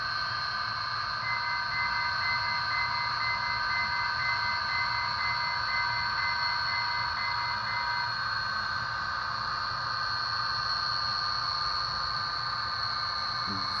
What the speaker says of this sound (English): So you press F5 and it notches up even further to full RPM.